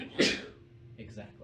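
A single sharp sneeze bursts out near the start, close and loud, followed by brief quiet talk.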